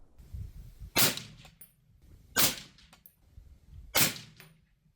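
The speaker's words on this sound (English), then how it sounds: "6 shots with the Stag with the Thunderbeast Magnus and this Federal ammunition" Three evenly spaced suppressed rifle shots from a Stag rifle fitted with a Thunder Beast Magnus suppressor and firing Federal ammunition, each a sharp crack with a short tail, outdoors, with quiet gaps between shots.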